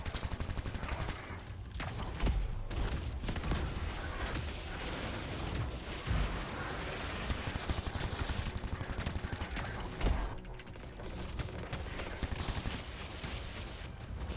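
Sustained rapid gunfire from a machine pistol in the sci-fi action game Anthem, dense and continuous across the whole stretch with steady loud bursts and occasional sharper spikes.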